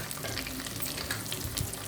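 Thinly sliced onions fry in oil for a rasam, giving a dense, even sizzle that fills the sound, heard close and steady with no voices.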